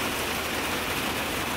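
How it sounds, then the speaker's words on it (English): Heavy rain drumming on a greenhouse roof, a dense, loud, unbroken hiss and patter that fills the space with no pauses. "in the greenhouse right now with all this rain"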